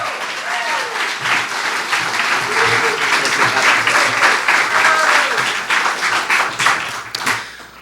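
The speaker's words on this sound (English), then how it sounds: "Please give a big round of applause to Berkeley City Council member Igor Tregub." An audience at a Bay Area campaign kickoff event applauds steadily, a dense wash of clapping lasting several seconds with a few cheers rising through it before it tapers off.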